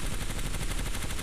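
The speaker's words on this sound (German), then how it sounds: "Die Schüsse sind so extrem basslastig." Rapid, bass-heavy energy-weapon gunfire from the L-Star in the video game Apex Legends, a steady stream of close, loud shots in quick succession with no pauses.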